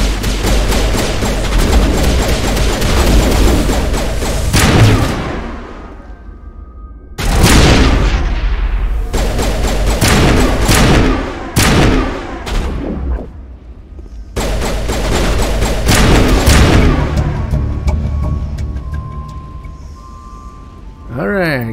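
Gunfire from the video game Mass Effect Legendary Edition rings out in loud, dense volleys and booming bursts, separated by short pauses, with game voices speaking over the fighting.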